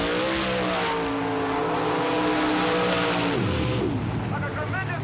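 Loud, continuous engine roar of a black 1989 Chevrolet Corvette with a 610 cubic inch Chevy engine mud racing, the pitch holding high before dropping sharply as it winds down, with faint squeal-like tones late.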